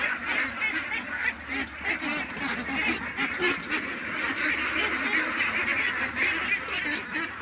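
A flock of ducks quacks and honks continuously in overlapping, busy calls, fairly loud and close, with no clear speech.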